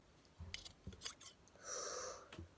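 Fabric scissors cut across sweatpants fabric, giving a few faint crisp snips followed by a longer soft slicing rasp, close and quiet, with no talk.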